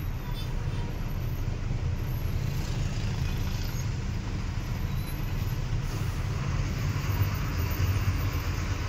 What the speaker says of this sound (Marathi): फुल ट्रॅफिक जाम आहे.